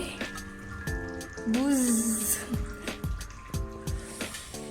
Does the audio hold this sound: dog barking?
no